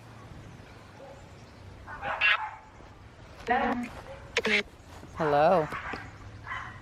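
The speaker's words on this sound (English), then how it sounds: "The dogs will stop barking in a second." Several dogs bark and yip in short bursts some distance away outdoors, under quiet background ambience. A person gives a brief spoken greeting.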